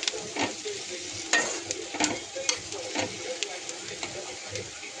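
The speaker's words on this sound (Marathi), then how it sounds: "आपल्या भाज्या आता चांगल्या फ्राय होत झाल्यात" Vegetables frying in a pan for white sauce pasta give a steady sizzle, with stirring scrapes and occasional utensil clinks close by.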